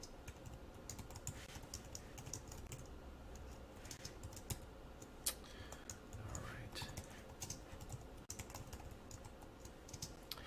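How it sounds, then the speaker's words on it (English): Steady computer keyboard typing, a dense run of quick key clicks throughout, with a brief spoken remark partway through. "I can speed along my typing"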